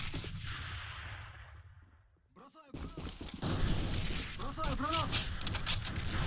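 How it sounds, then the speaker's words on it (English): Grenade blasts and gunfire in a competitive A.V.A online shooter tournament match, heavy rumbling bursts and crackling shots under a fast-talking commentator, with a short lull before the action swells again. "More nades coming out."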